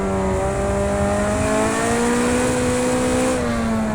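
A Ferrari 288 GTO's engine in a racing video game revs high and strains through the gears, a loud, continuous rising whine with one shift midway, close and alone without any talk.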